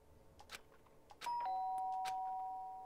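A doorbell in the video game Danganronpa Trigger Happy Havoc gives a clear two-tone chime that rings out and slowly fades, after some quiet faint rustling.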